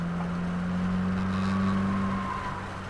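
A 2022 Subaru WRX engine pulls hard under throttle during an open track day at Waterford Hills, its steady loud drone rising slightly in pitch as the car accelerates, close and continuous with no talk over it.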